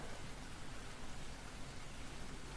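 Gentle rain taps on window panes, a dense and steady patter that continues without pause and stands alone with no voices.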